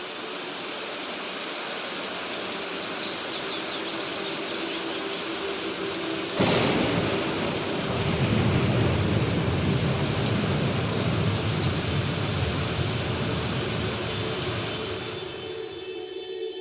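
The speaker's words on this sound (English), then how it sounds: "The real problem here is this rain." Steady rain hisses throughout in the dark-fantasy game Black Book, and a deep roll of thunder breaks in about a third of the way through and rumbles on for several seconds before fading back into the downpour.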